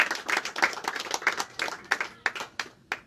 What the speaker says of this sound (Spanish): El aplauso para él, para el compañero.